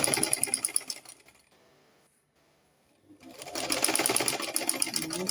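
A sewing machine stitches the neckline of a dress trimmed with skin illusion net, running loud and steady, pausing to near silence midway, then whirring back up at full speed.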